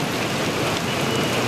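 Heavy rain pours steadily over a city street, a dense, even hiss of drops on surfaces that holds at a constant loud level throughout, with no voices.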